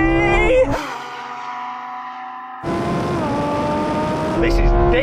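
A Lamborghini Huracan Sterrato accelerates hard in a drag race, its engine howling up through rising gear pulls with abrupt shifts, loud and close, while people talk over it.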